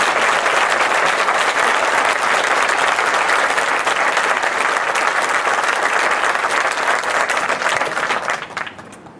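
Audience at a ceremony and parade applauding a band, dense sustained clapping from a crowd, loud and continuous before tapering off at the end.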